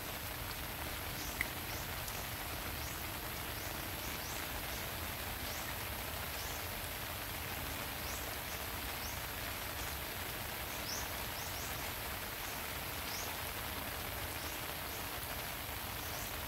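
Heavy rain pours steadily at a lagoon during tilapia fishing, a dense unbroken hiss of falling water with no pauses, spread evenly and fairly close around.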